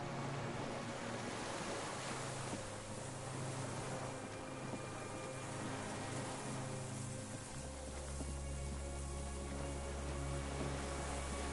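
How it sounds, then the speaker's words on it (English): Distant cargo ship signal horns echo over water in Disco Elysium, a low steady drone that swells near the end beneath a constant wash of waves and rain-like hiss. "The distant sound of cargo ships. Signal horns echo on the water."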